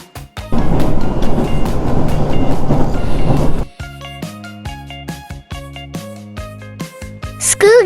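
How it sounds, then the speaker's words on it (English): A subway train rumbles loudly for about three seconds with a dense, steady roar and faint rail clatter, then cuts off as light music continues. "Subway."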